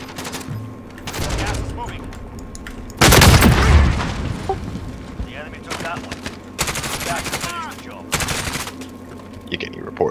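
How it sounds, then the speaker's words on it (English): Call of Duty Modern Warfare gunfire shooting through wood, loud repeated automatic bursts in several sharp clusters, one long heavy barrage, with excited players talking between shots. "You can shoot him through that wood."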